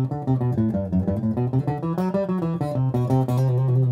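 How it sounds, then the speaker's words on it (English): A guitar picks a Phrygian mode scale in a steady run of single notes, moving up and down with a dark, exotic, minor-sounding character. "Sounds very Phrygian, dark, exotic, minor."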